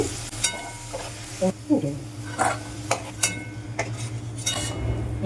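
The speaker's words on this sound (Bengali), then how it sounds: "ওলগুলো ভাজা হয়ে গেছে তুলে নিচ্ছি" Fried elephant foot yam pieces are lifted out of a sizzling pan: a steady oil sizzle under repeated scraping and clinking of a metal utensil against the pan in uneven bursts.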